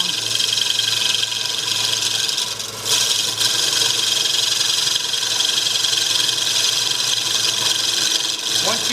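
Spindle gouge cutting into a wooden bowl spinning on a lathe, a steady, continuous rasping shave over a motor hum, close and loud, with one brief dip in the middle.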